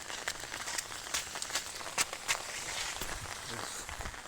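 Light, warm rain patters steadily in faint, dense ticks while someone walks through it outdoors, with soft irregular footsteps mixed in and no talking.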